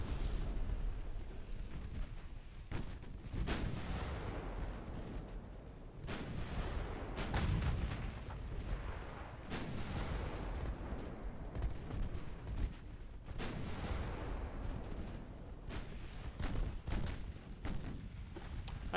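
Warship guns boom repeatedly in a naval battle in Ultimate Admiral Dreadnoughts, with heavy, overlapping salvos rolling one after another, loud and continuous throughout.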